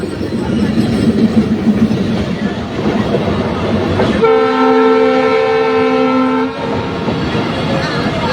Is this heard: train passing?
yes